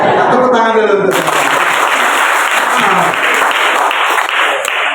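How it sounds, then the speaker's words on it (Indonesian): Applause at a school worship service with SMK Bina Kusuma 2 Nanga Pinoh students. A voice is heard briefly before a crowd's sustained clapping fills the room for the rest of the stretch. "Tepuk tangan dulu untuk saya."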